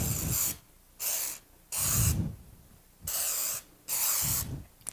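Cooking spray hisses into a loaf pan in several short bursts, lightly misting before baking pumpkin bread, with pauses of quiet between sprays and no talking.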